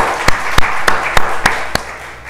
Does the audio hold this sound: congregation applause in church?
yes